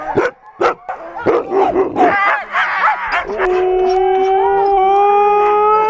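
Siberian Husky sled dogs in winter bark, yip and howl loudly and close up, first in rapid overlapping bursts, then settling into sustained howls.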